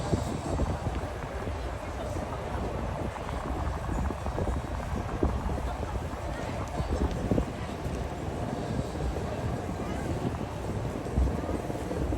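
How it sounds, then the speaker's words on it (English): A search and rescue helicopter draws nearer over water during a fleet festival demonstration, a continuous low rotor rumble with wind buffeting the microphone, steady and fairly loud throughout. "the helicopter is definitely going to drown me out in a little bit by the time they get close enough to Oscar"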